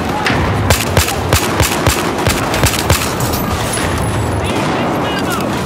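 Rapid bursts of machine gun fire in a night-time military shooter video game, sharp repeated reports over a dense, loud backdrop of battle noise and distant explosions.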